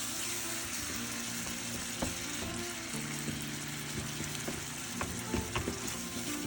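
Tomato and tuna curry sizzles in a pan while being stirred, a steady quiet frying hiss with soft scraping and clinks of the utensil.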